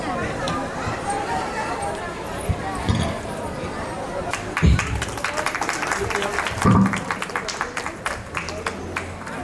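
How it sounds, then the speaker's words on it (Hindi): Applause at a school annual function as a guest is called to the stage, scattered clapping that builds and thickens midway, with a few louder thumps and talk running beneath. "इनके लिए भी जोरदार तालियां बजा दीजिए"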